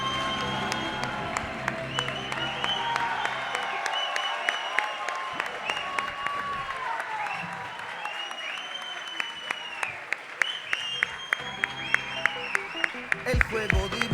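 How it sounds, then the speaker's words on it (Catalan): Theatre audience applauding and cheering for a performer's entrance, clapping under music-like tones and crowd noise, with sharp claps standing out toward the end. "Ara sí, rebem amb un fort aplaudiment a Carles Torà, a.k.a. Mr. Tartària."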